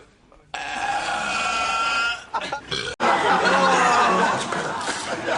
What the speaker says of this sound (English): Striking belch.